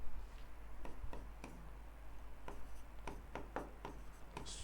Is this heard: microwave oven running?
no